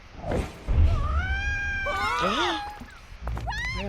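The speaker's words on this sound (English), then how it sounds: "Vampire cat." A cat character meows in the video game World of Final Fantasy, with a few rising, tonal cries over game music and background effects, fairly close and clear.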